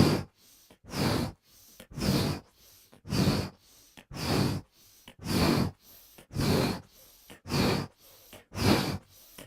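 Forceful rhythmic breathing during kundalini yoga pranayama, about ten strong breaths in a steady even cycle, each a loud close rushing exhale and inhale separated by brief pauses, with no talking.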